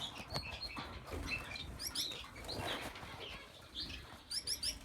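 Lady Gouldian finches and fledged chicks in an aviary flutter their wings in quick, soft bursts, mixed with high chirps and tweets, all fairly faint and close.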